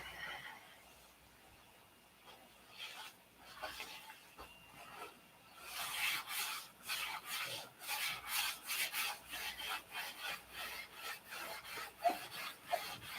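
Sandpaper rubs over a clear coat finish in rhythmic back-and-forth strokes, faint at first and then growing louder and more regular, close and dry.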